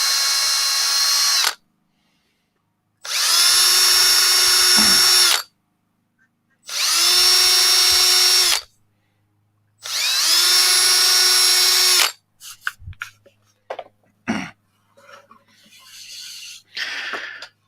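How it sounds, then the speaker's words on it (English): A powered scroll saw cuts wood in four long buzzing runs separated by silent pauses, loud and close, followed by scattered handling clatter and soft noises. "how many times per minute does that arm of your scroll saw go up and down?"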